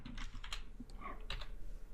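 Rapid typing on a computer keyboard while entering JavaScript array code, with a steady run of close, crisp key clicks and clacks and no talking.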